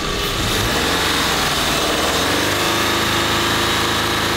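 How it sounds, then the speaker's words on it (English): A car engine held at a steady high rev around 3,000 RPM with headlights and air conditioning on, a loud, even drone with a faint high whine, close up and without voices. "Now rev it up."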